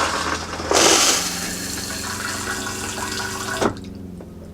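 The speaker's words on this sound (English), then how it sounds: "Hopefully we can flush." A Thetford Aqua Magic Style II RV toilet flushes after a water valve replacement, a close rush of water that surges loudly, runs steadily for a few seconds, then cuts off abruptly.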